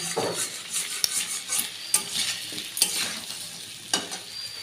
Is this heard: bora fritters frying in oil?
yes